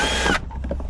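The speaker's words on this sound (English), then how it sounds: "Just line up the drill on your mark" A power drill whines loudly at close range for a brief burst while boring straight through, then cuts off abruptly, leaving only faint room noise.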